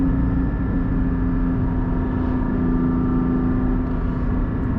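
A 400-horsepower Porsche GT4 engine drones steadily from inside the cabin while driving, a loud continuous low rumble with no break and no voices.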